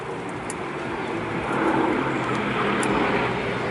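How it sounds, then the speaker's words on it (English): Bristol Blenheim WWII Royal Air Force light bomber flying at Bournemouth Air Festival, a steady broad engine drone at moderate distance that swells slightly louder midway. "the only flying example of an early war Royal Air Force light bomber"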